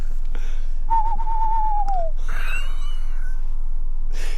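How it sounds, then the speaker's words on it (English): A tawny owl calls at night near caverns: a long, clear, whistle-like hoot that slides downward at the end, then fainter wavering hoots over steady background hiss. "that's a tawny owl. Yeah. You can tell by the sound."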